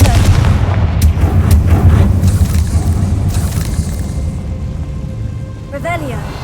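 Fire spell blast from the Hogwarts Legacy video game, a loud dense rumbling burst filling the first few seconds with booming impacts, then tapering into a crackling tail with fainter tones near the end.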